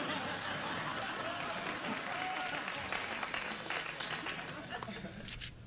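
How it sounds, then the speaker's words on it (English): A studio audience on a late-night talk show applauds in a steady, sustained wash of clapping that fills the room, with light laughter mixed in before it gradually thins out. "The audience applauded when I threw the bit of paper"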